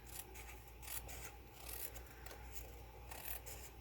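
Scissors snipping and trimming a single sheet of card paper while making a double pocket card, a soft, close rasping cut running steadily for a few seconds at low level.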